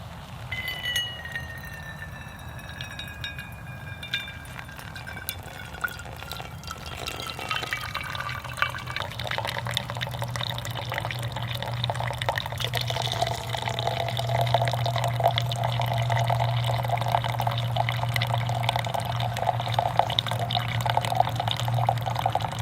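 Water pours and trickles into a coffee pot set on an Otzi Spark flat-pack wood stove outdoors, a steady running and filling sound that builds and continues under a low hum, with no talking.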